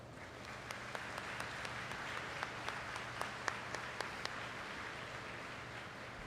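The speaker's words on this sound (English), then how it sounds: "Let's take a moment to applaud BNI faculty and staff." An audience at a high school commencement ceremony applauds faculty and staff with steady, moderately loud clapping from a large crowd. A few sharper individual claps stand out, and no one speaks.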